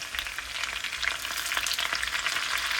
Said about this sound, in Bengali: হালকা হালকা একটু ভেজে নিচ্ছি আমি গ্রাইন্ড করে রাখা এই যে পেস্টগুলি দিয়ে দিচ্ছি